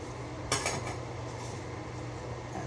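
Kitchen cutlery, a knife and spoon, being picked up and set down, a single bright metallic clatter followed by a few lighter taps over quiet room hum.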